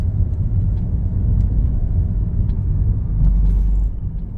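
A Mercedes-Benz W204 with a seven-speed gearbox revs gently under light throttle, a low steady rumble heard from inside, swelling slightly toward the end.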